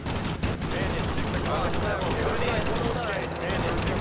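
Machine guns in a B-17 Flying Fortress bomber game chatter in rapid continuous bursts over a constant drone of aircraft engines, with a voice talking over part of it.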